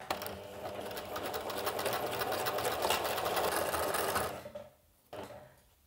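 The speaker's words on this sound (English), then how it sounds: "I'm using a zigzag stitch because this is stretch fabric." A sewing machine runs a steady zigzag stitch, attaching fox fur onto stretch fabric. The whirring stays continuous and close for about four seconds, then stops, followed by a brief final burst.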